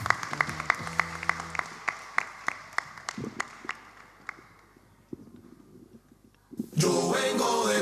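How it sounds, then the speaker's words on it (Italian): At a talent show, a string of sharp claps fades out, then a burst of loud, dense audience applause erupts near the end. "Un applauso a Martina."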